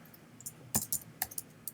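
Several quiet, uneven keystrokes tap on a computer keyboard, scattered clicks in a brief burst with short pauses between them, close and faint.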